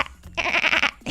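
A single drawn-out goat bleat, close and fairly loud, with a wavering, quavering pitch that lasts most of a second, preceded by a brief quieter rustle.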